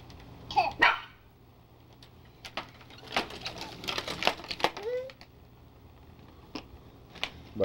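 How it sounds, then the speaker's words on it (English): A family dog barks in a few sharp, scattered bursts at close range in a home, with quiet pauses between them and some clattering household noise mixed in. "Where's that dog? You see that dog, Dixie?"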